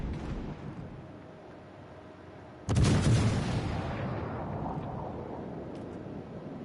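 A single thunderous salvo of warship artillery in World of Warships breaks low ambient background, with a long booming rumble that slowly fades, plus a few faint clicks later.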